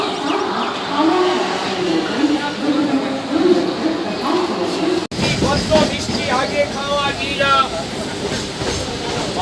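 Train noise at Howrah railway station: a steady, loud rumble of rail traffic and station bustle throughout, with people talking nearby over it.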